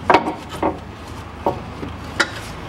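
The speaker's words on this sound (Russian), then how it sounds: "Теперь поднимаем стабилизатор, снимаем скобы и снимаем втулки." Metal stabilizer bar brackets and rubber bushings being removed from the front suspension of a 2013 Mitsubishi ASX 1.8, heard as a few close, sharp clanks and scraping knocks spaced out over a quiet background, with no talking.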